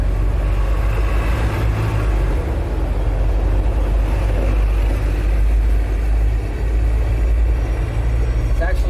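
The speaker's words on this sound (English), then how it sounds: "It's actually really loud with the buses" Buses rumbling along a loud city street, a heavy low engine drone with traffic swelling and passing, while someone talks over the noise.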